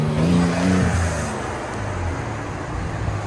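A 2017 Ford Raptor 3.5L EcoBoost V6 pickup's exhaust rumbles and revs briefly up close, then eases into a steady, throaty drone with some hiss of surrounding noise.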